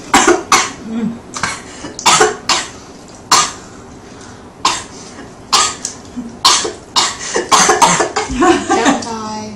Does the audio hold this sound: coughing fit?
yes